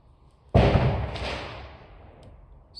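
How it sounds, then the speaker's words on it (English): Fireworks going off outside at the turn of the new year: one loud sudden boom that rolls and decays slowly over a couple of seconds, fairly close, with no voices. "So, you hear the fireworks? They started already."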